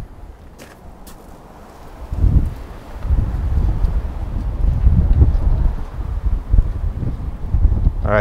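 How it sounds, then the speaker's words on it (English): Gusty outdoor wind buffets the microphone with a steady low rumble that swells louder after a couple of seconds, heard at a bronze sword casting session while a mold is being opened. "Hopefully the wind isn't too bad for you guys."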